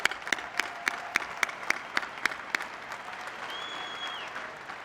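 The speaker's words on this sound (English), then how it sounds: "Let's give them a big round of applause." Crowd at the Mr. Olympia 2015 bodybuilding contest applauds the physique, fitness and bikini athletes: a few distinct claps up front swell into sustained, full applause, with a brief high tone sounding over it.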